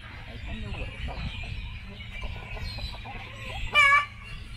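Laying hens cluck softly in the background under people talking on an ecological farm, with a brief louder squawk near the end.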